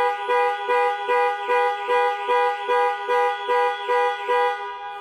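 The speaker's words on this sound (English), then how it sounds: "Press for 3 seconds or press 3 times in 3 seconds, and the horn will sound and the hazard lights will flash." Land Rover panic alarm blaring its horn in a steady repeating pattern, about ten evenly spaced loud pulses across five seconds, close and alone with no talk.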